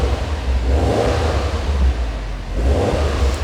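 A Subaru WRX STI flat-four engine revs up to around 3,000 RPM, a deep throbbing thrum that swells twice over a low idle rumble, heard close by with no talking.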